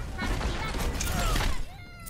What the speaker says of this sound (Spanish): ¡Pum! Explosión.